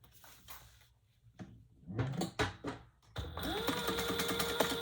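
A sewing machine stitches the short ends of a lining seam for a Barbie-size leather tote bag, starting as brief bursts among handling clatter and then running steadily and close for the last couple of seconds.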